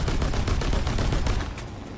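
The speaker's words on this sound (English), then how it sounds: "Let's see if the cannons do any better than the 7mm do." Vehicle-mounted 20 mm cannons in War Thunder fire a rapid, continuous string of heavy shots, loud and close, tapering off in the final half second.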